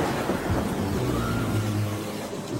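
Rain falls from a cartoon cloud, a dense, steady hiss of drops with a low thunder rumble underneath, loud and continuous with no talking.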